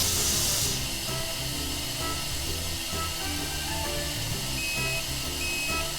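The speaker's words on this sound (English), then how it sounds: "Then I hit start, and then it will fill this tire till it gets to 23 PSI," A rapid tire air inflator fills a farm sprayer tire toward 23 PSI, giving a steady, loud hiss of rushing air over a constant low motor drone that runs without a break.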